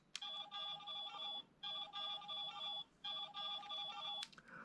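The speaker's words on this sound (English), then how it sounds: "Pressing the call button will effectively sound the ringtone for the device" An electronic ringtone from a Shodophone toy phone from Samurai Sentai Shinkenger plays a repeating melodic pattern three times with short pauses between, thin and fairly quiet.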